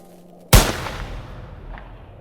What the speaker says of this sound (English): A shot echoed through the mountains.